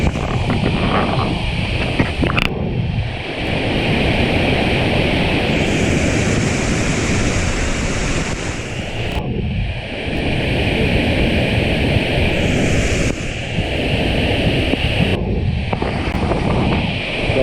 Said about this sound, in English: Checking it out in Zomba, down by the Waterfall